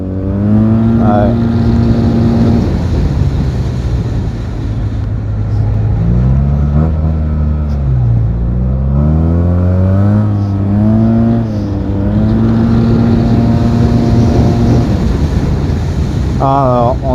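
Yamaha TMAX 560 scooter, Black Edition with Malossi variator and Termignoni exhaust, revving up loudly and close with rising and falling engine pitch through several acceleration pulls, with wind buffeting over the microphone.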